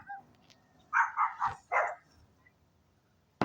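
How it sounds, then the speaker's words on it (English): Dogs barking on a quiet road: a close burst of four loud, evenly spaced barks from one dog, then silence with faint background hum. "Why do my dogs start barking?"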